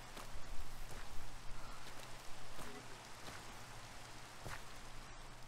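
Rain patters in a video game, a soft steady hiss broken by a few sharper droplet ticks, fairly faint beneath a low constant hum.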